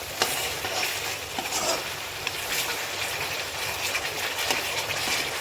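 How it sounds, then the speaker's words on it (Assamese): Potatoes frying in oil with masala in a pan, a steady close sizzle with stirring scrapes running through the whole stretch, no voices. "এতিয়া মই আলুখিনি দি দিওঁ আৰু ধুনীয়াকৈ এতিয়া এনেদৰে মছলাৰ সৈতে আলুখিনি ভাজি লৈছোঁ"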